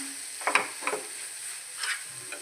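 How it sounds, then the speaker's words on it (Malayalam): Beaten rice and banana stirred together in a pan, a few soft scraping stirs and light rustles at moderate distance, with a faint sizzle underneath and no talking. "ഇതൊന്ന് നന്നായിട്ട് മിക്സ് ചെയ്യാം."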